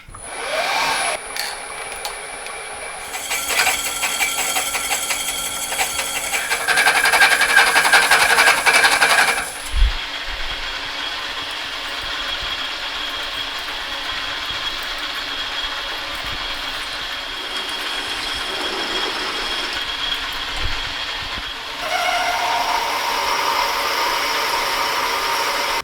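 A hand saw cuts a slit into a metal workpiece in a shop, giving a loud, steady rasping that surges in bursts and then continues at a lower, even level, with no talk.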